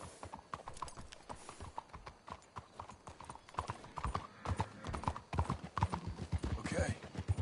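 Horse hooves clip-clop in Red Dead Redemption 2 as a quiet, rapid and continuous rhythm of several hooves on the ground, with a brief whinny and game characters talking over it.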